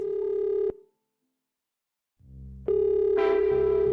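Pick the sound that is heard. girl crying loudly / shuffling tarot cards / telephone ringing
telephone ringing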